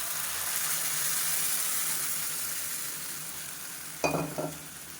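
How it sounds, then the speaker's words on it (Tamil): Chow chow (chayote) and tomato curry is stirred in a pan just after water is added. A steady bubbling hiss runs throughout, and near the end come a few sharp clinks of a spoon against the pan. "எவ்வளோவுக்கு தண்ணி வேணுமோ அந்தளவுக்கு தண்ணி ஊற்றி கலந்துக்கோங்க."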